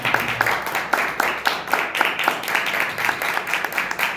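A congregation at a Good Friday church service claps in steady rhythm in praise of the Lord, with a regular beat of moderately loud claps running throughout and voices faintly underneath.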